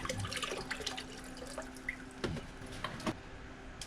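Water running out of the drain of an 8-gallon Vevor ultrasonic cleaner, a soft continuous trickle and splash with scattered drips, fairly quiet and with no voices.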